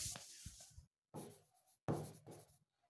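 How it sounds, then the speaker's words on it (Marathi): Pen writing by hand on paper while filling in a calendar, short scratchy strokes in three bursts separated by brief pauses, quiet and close. "थोडं लिहितो इथे"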